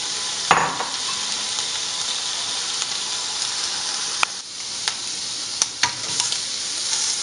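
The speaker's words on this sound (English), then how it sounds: "just cook the shrimp until they're pink on one side and then pink on the other" Shrimp fry in a hot skillet with a dense, even sizzle that carries on without a break, and a few sharp clicks and taps come from a utensil touching the pan.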